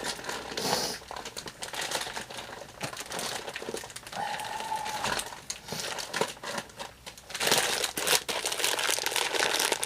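A plastic bag of raisins crinkles and rustles close by, with continuous crackling handling noise that swells and fades over several seconds.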